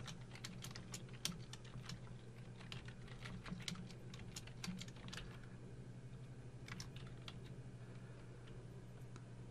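Quick, light clicks of typing on a computer keyboard come in bursts and pauses while HTML is written in a code editor, soft and close.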